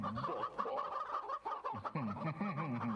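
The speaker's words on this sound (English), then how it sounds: "The demonic royal chicken at your service." A chicken clucks in VRChat, a busy, warbling run of close clucks and squawky calls that carries through without pause.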